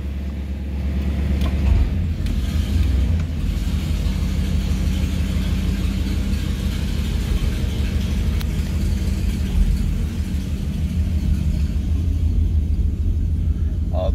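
A 1966 Pontiac Star Chief Executive rumbles along while driving, its engine a steady low drone with road noise close inside the cabin throughout.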